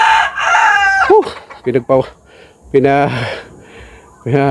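Rooster crows and hen clucks ring out close by at a gamefowl farm, with harmonic calls breaking in several times between shorter squawks.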